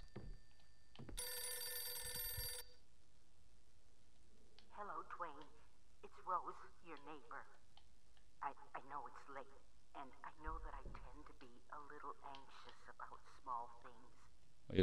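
A telephone rings inside a Halloween horror video game, one loud burst of bell-like ringing near the start, then game sounds and someone talking over the rest.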